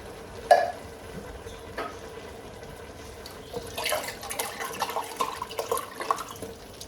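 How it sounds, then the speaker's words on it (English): Beef broth being poured from a can into a soup pot of hamburger soup makes soft, faint liquid splashing and trickling, growing busier toward the end after a small clink near the start. "Gonna add some beef broth."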